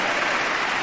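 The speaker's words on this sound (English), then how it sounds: "Could you hear that applause, Cody?" Applause heard as a steady, dense wash of clapping, fairly loud and continuous through the short moment, with no voices over it.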